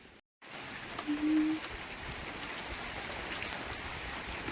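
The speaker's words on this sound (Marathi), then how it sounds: "पण आता परत पाऊस चालू झाला" Steady hiss of rain falling on a pearl millet field, continuous and moderate, with a brief dropout near the start and a faint tone briefly rising above it.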